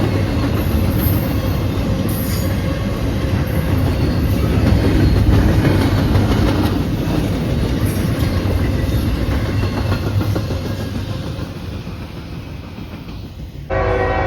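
A freight train hauled by two engines rolls past close by with a heavy, continuous rumble and rhythmic clickety-clack of wagons, loud throughout and easing slightly toward the end.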